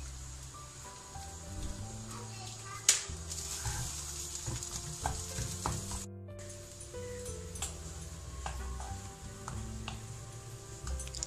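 Pav bhaji vegetables frying with masala in a pan, a quiet crackling sizzle broken by scraping stirs and occasional spoon clinks, with a brief dropout midway.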